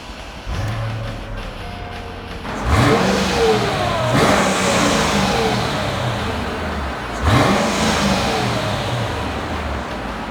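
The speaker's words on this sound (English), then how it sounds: "this has a very throaty engine sound, but the exhaust is kind of quiet too" A 2003 Mercedes-Benz SL500 convertible's engine starts, then revs hard twice with deep throaty roars, idling in between, loud and nearby.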